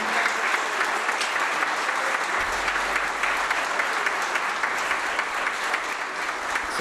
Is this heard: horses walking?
no